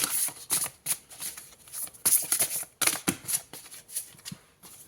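Tarot cards being shuffled up close, quick irregular riffling bursts and soft slaps in a quiet room, with little speech.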